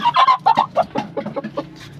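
Khaki hens in a backyard coop cluck in quick, close, busy bursts, a string of clipped calls that rise and fall over a couple of seconds.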